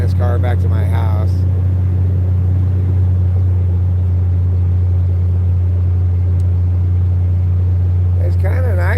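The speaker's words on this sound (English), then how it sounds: "I'm just chilling, going 25 in my little wilderness car back to my house." A small wilderness car cruises at about 25 mph on a backcountry road, giving a steady, loud low engine and road rumble throughout, with brief bursts of talk at the start and end.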